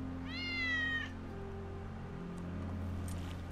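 Wedge's cat meowing in Final Fantasy VII Remake, a single clear drawn-out meow near the start, followed by a quiet ambient hum with no voices.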